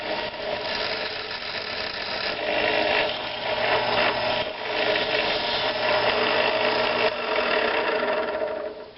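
A drill bores a 1/8-inch hole through a base plate and into a pellet mold block, a continuous whirring grind that runs steadily throughout with slight shifts in pitch.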